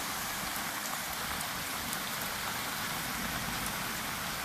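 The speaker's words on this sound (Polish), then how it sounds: "Coraz mocniej pada." Steady rain falls on surfaces outdoors in a garden with palm and banana plants, a dense, even hiss of drops lasting throughout with no talk.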